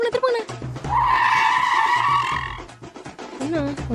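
A vehicle turns around fast with a sharp, sustained tire squeal lasting about two seconds, rising over a voice and low engine rumble as people talk before and after.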